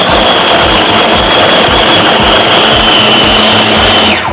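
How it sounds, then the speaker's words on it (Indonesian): An electric food chopper mincing 500 grams of chicken thigh meat whirs loudly and steadily at close range for several seconds, then stops abruptly. "Pertama, aku mau chop dulu ayamnya pakai chopper guys ya."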